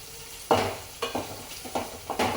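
Okra and green chilies fry in a pan for a homestyle spicy curry, with a steady sizzle broken by four distinct scraping stirs at a regular pace, close and fairly loud.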